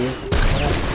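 A sudden loud rocket launcher blast erupts partway through in Fortnite, followed by a broad rumbling roar that lingers to the end.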